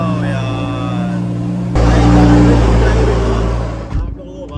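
A Lamborghini Huracan, left unused for days during rainy weather, fires up with a sudden loud engine roar that swells and holds, over an idling hum, then cuts off abruptly; someone talks over it.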